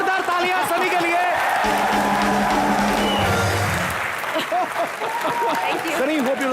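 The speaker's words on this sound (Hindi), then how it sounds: "एक बार जोरदार तालियां" A studio audience at a Hindi comedy talk show claps loudly, a dense sustained roar of applause that runs through the whole moment while voices carry over it.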